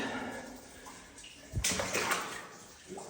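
Feet wading through water inside an old mine, a burst of sloshing and splashing midway with softer watery movement around it, close and fairly faint.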